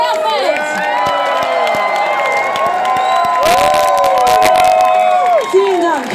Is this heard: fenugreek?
no